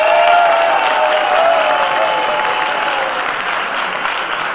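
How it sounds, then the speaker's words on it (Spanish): A crowd at a book launch at the Guadalajara International Book Fair gives sustained, dense applause. The clapping stays loud and even throughout, with faint whistling near the start. "Aplauso para Pérez."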